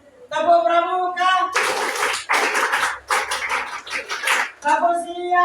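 A group performs the Indonesian Scout clap, tepuk pramuka, at a university session: rhythmic bursts of loud massed hand claps in several grouped beats with short gaps, framed by a voice speaking before and after.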